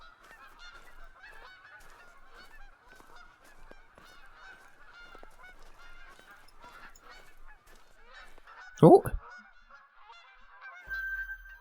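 Snow geese honk repeatedly at a distance across a quiet night landscape in theHunter: Call of the Wild, Askiy Ridge, with one short loud thump near the end and a brief exclaimed voice.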